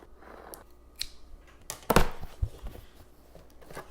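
Packaging for a Logitech MX Mechanical Mini keyboard is handled up close, with rustling cardboard, a few sharp snaps and scrapes, and one louder tearing crack in the middle.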